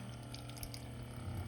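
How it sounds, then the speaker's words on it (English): Water runs steadily from a small automatic water dispenser pump feeding a portable sink, a faint, even hiss and trickle with a low motor hum beneath it. "with the push of a button"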